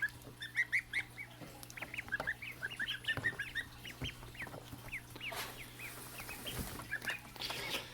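Ducklings and Toulouse goslings in a brooder make rapid high peeping and chirping, many small calls overlapping over a steady low hum.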